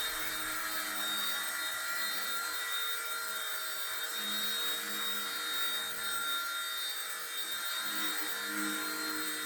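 Firefox C129 micro RC helicopter flying indoors, a steady high-pitched electric rotor whine with faint motor buzz that holds at a constant level throughout, no voices over it.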